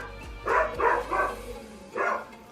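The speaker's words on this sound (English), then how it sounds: "my doggies are making a lot of noise right now" Dogs barking indoors in a home kitchen, four quick woofs in a burst followed by a single bark after a short pause, moderately close and loud with no talk.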